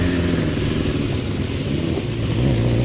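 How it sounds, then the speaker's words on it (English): A Kawasaki 650 motorcycle engine runs steadily close by, a loud continuous mid-pitched drone with slight rises in revs and no voices. "Brad Nichols on the Kawasaki Tractor 650."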